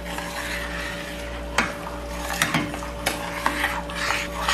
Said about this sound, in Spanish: Le vamos a revolver.